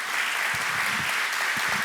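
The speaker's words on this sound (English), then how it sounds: "Can we give a round of applause again" An audience at an art and religion lecture claps in steady applause, a dense wash of hands filling the short moment, with no voices heard over it.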